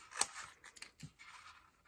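Paper being trimmed for a handmade box, a few close, quiet snips and crisp paper rustles at an uneven pace.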